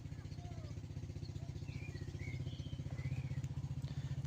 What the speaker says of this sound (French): il est parti faire de la moto tout seul